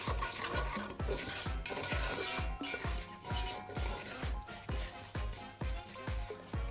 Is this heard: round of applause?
no